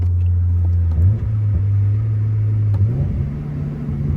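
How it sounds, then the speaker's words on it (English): A Toyota GR86 engine blips during downshifts on a driving school drive, a steady low engine drone broken by two quick rev rises, heard from inside the car without talk. "Let's get some downshifts for you guys."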